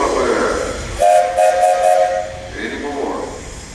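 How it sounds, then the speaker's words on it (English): Steam whistle on an antique steam traction engine at an outdoor parade, one long steady blast lasting about a second and a half over crowd murmur and hiss. "Now you got a whistle up there."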